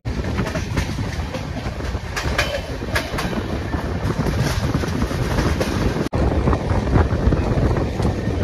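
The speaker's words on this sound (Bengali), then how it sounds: "ছেড়ে দিল আমাদের ট্রেন টাটানগর থেকে হাওড়ার পথে।" The 12814 Steel Express train rolls out of Tatanagar toward Howrah, a loud continuous rumble of wheels on rails with rhythmic clickety-clack beats and wind buffeting, heard from on board without talk.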